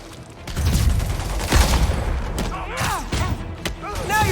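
Bursts of gunfire aimed at Spider-Man in Marvel's Spider-Man Remastered, with heavy volleys and thuds over a few seconds, mixed with other in-game effects and possible game voices.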